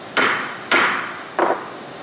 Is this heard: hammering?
yes